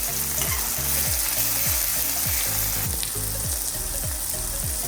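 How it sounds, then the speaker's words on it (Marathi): Finely chopped tomatoes fry in a hot pan with a dense, continuous sizzle and repeated scraping strokes of a spoon, loud and close with no talking. "बारीक चिरून घेतलेला टोमॅटो आहे ते टाकून घ्यायचं आहे टोमॅटोला त्याला मऊ होईपर्यंत शिजू द्यायचं आहे"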